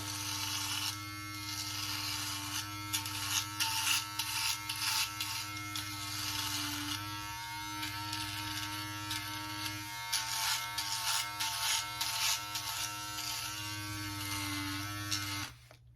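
A Yabife beard trimmer fitted with its shaver head buzzes steadily and loudly near the microphone for the whole stretch, with a constant motor hum and brief shifts in tone as it moves over skin.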